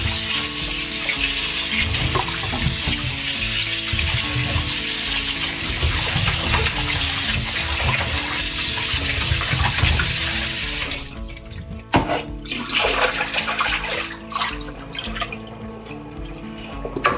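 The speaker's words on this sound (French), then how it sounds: "nous allons bien les laver" Peeled apples are washed under a strongly running kitchen tap, a loud, steady gush of water into the sink that turns splashier and more broken as the fruit is handled.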